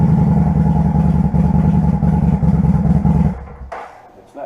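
A motorcycle engine that won't take throttle runs steadily and loudly up close with a low, lumpy idle, then cuts out abruptly near the end, leaving near-silence and a brief faint noise.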